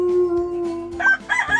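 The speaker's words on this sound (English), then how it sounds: "Rooster wakes you up on the barn." A rooster crows once, up close and loud, its harsh stretched call rising then breaking into ragged final notes, with no talking over it.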